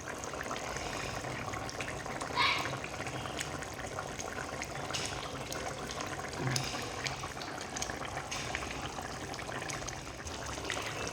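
A pot of rohu fish curry with kohlrabi and potato simmers, giving a soft continuous bubbling hiss at low volume. A couple of faint clinks break the steady sound. No talking.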